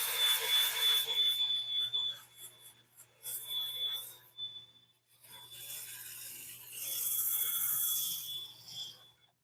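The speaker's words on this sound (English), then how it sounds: "This is part of what happens when you're doing a bowl. Is you have to do the sanding part." Sandpaper rasps against an oak bowl spinning on a wood lathe, a steady close rubbing over the motor's hum, pausing briefly and resuming in stretches.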